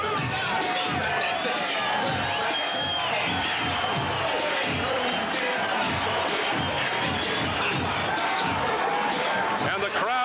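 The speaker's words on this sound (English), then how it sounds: "And the crowd saluting Evander Holyfield" Roaring arena crowd cheering for heavyweight boxer Evander Holyfield at a boxing match, a thick, sustained wall of cheers and shouts with scattered sharp thumps and a voice talking over it throughout.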